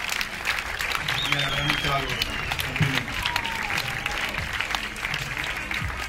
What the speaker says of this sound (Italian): io ti darei un applauso per questi due atleti che si sono battuti